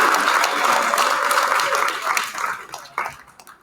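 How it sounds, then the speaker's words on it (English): Audience applause at an evening gathering of an archaeological field school, dense steady clapping that fades and thins out toward the end, with a few scattered final claps. "Thank you for that applause"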